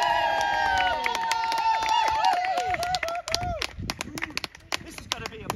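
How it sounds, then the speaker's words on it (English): An audience at an outdoor clown show cheers and claps, with excited shouts and scattered applause that thin out toward the end, as a voice carries over the crowd. "give me a round of applause"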